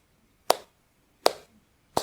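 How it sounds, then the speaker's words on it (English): Hands clap three times, sharp and close, at an even, steady tempo, with silence between each clap. "clap, 100 BPM, and it'd be like"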